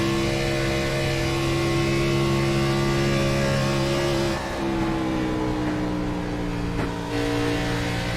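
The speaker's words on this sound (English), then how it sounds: "let's go to the end car and listen and see how much he is off throttle." Onboard a NASCAR race car during a race, the engine drones loud and steady at high revs, then briefly drops pitch as the driver lifts off the throttle and comes back on, twice.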